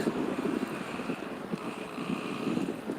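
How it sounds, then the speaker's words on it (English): Strong wind buffets a microphone outdoors on a street in Richmond, California, a continuous, loud rumbling roar that gusts unevenly throughout. "it's windy as fuck out here"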